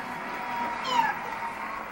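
A house cat meows once, briefly and fairly close, in a family home, standing out over a steady room hum with no talk.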